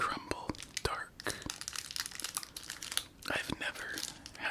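Crisp crinkling and tearing of the wrapper on an Australian Violet Crumble Dark candy bar, close and bursty, with whispered speech between the handling sounds.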